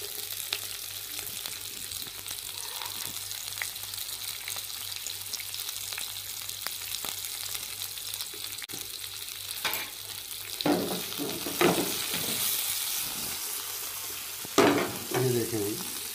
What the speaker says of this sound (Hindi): इसको मैंने हल्का हल्का सा फ्राई कर लिया।